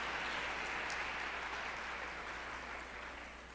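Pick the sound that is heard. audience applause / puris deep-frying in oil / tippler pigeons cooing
audience applause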